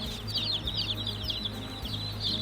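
Baby chicks fresh from a hatchery shipment box peep in a steady, busy chorus of high chirps. A low background hum runs constantly beneath them.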